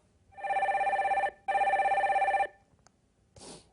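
A telephone rings as a call-in line connects: two long electronic bursts of ringing, loud and close, followed by a brief click and a short noisy rustle.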